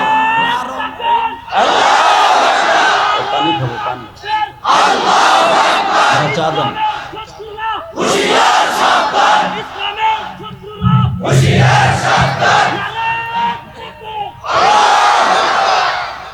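A mahfil congregation shouts the takbir together in loud, massed bursts, roughly five rounds of several seconds each, with brief pauses between them where a single voice leads.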